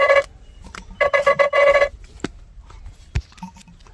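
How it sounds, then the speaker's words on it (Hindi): A mobile phone rings for an incoming call: two bursts of a loud electronic ringtone, a short one and then a longer run, followed by scattered quieter knocks and handling noises, with no talk. "पापा फ़ोन कर रहे हैं यार बार बार"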